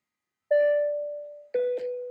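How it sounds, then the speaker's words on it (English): A two-tone electronic chime like an airplane cabin call bell sounds clearly on its own, one long ringing tone followed by a second, slightly lower strike that repeats quickly. "you hear this bell go over."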